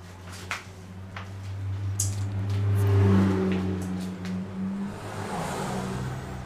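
A car engine drones and swells as a vehicle passes nearby, rising in loudness mid-way then fading, with a few faint clicks in the background.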